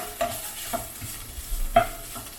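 Onions and cumin fry in a pan while being stirred, giving a soft steady sizzle broken by a few scraping stirs, close and fairly quiet, with no talk.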